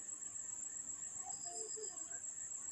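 Grasshoppers chirp in a summer field, a steady high-pitched insect drone holding on continuously throughout with no talking over it.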